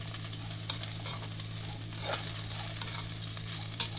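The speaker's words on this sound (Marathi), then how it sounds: "मिक्स करून घ्यायची आहे साखर" Sugar is stirred into upma premix in a pan, giving a quiet, close scraping and light rustling with a few soft clicks of the spoon, no voices, under a faint steady hum.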